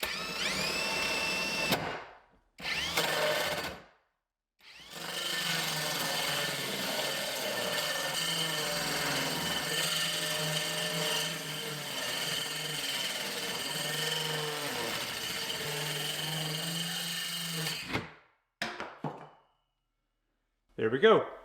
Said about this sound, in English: now I'm going to be using a 6 1/4-inch hole saw with a drill